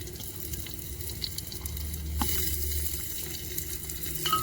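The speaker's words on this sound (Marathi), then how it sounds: "तसं आता त्यात टाकूया टोमॅटो." Tomatoes tipped into browned onions in a pot make a steady, close sizzle and hiss that grows louder partway through as they hit the hot oil, with no voices.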